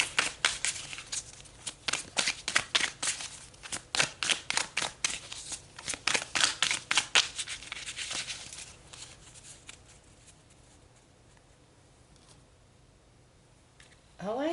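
Tarot cards are shuffled in a rapid run of crisp riffling flicks and snaps, loud and close for several seconds before thinning into quiet handling.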